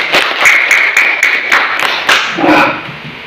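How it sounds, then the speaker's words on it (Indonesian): A class of schoolchildren claps together in a short, loud burst of applause, with a few voices mixed in near the end. "Tepuk tangan untuk hadir."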